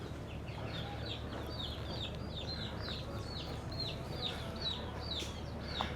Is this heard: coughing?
no